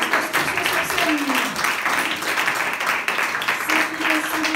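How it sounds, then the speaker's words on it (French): A crowd at a slam poetry stage night in Tours applauds a performing duo, a steady wash of clapping that runs throughout, mixed with voices and a few cheers rising above it. "on les applaudit de fort parce qu'ils sont sur scène"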